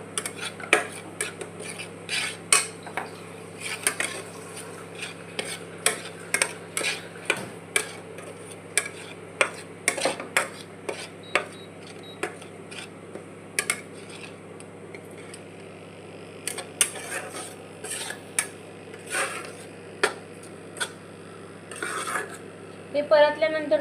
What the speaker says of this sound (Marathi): हे थोडंसं परतून घ्यायचं लालसर.